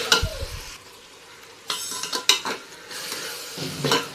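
Chicken pulao masala paste being stirred in a pan: uneven bursts of spoon scraping and clinking against metal over a soft sizzle, close by, with short quiet gaps between strokes.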